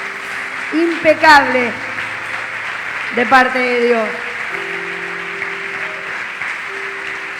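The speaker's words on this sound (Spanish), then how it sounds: "Den un aplauso a esta palabra" Congregation applause during a church service, a steady wash of clapping running throughout beneath someone speaking in between, with harmonic voice bursts rising above the crowd noise.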